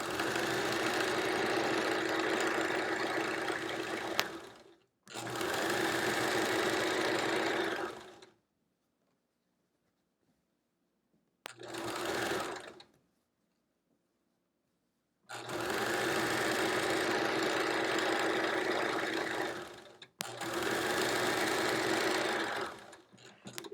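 A sewing machine chain-pieces Triangle Tango quilt blocks in several sustained runs, loud and close, separated by short silent gaps and one brief burst.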